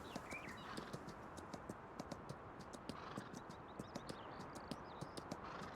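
Horse hooves clip-clop in a steady, irregular rhythm on hard, frozen winter ground, fairly close, with faint background noise and no talk.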